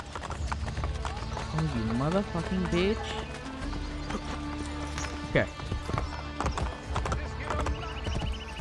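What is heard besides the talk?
horse galloping and neighing in Assassin's Creed Brotherhood video game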